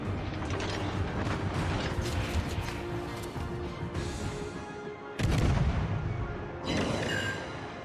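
Naval guns firing in the World of Warships video game, a dense roar of heavy cannon fire followed by two distinct deep booming salvos near the end.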